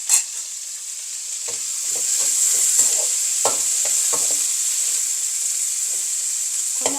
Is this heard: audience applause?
no